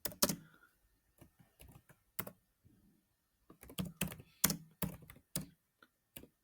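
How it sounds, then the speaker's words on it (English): Keys on a computer keyboard are pressed in short irregular clusters of crisp clicks, close and quiet, with brief pauses between bursts. "I'm gonna type"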